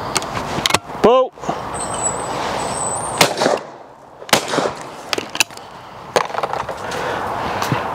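A Yildiz Pro 20 bore shotgun fires at clay targets outdoors, with a handful of sharp, loud cracks spread unevenly across the stretch, each followed by a brief echoing tail over steady background rumble.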